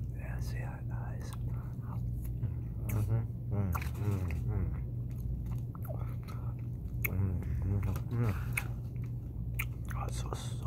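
Chewing Ezekiel bread topped with grated cheese, close and intimate, with soft wet bites and mouth sounds repeating throughout over a steady low hum, with faint whispering at times.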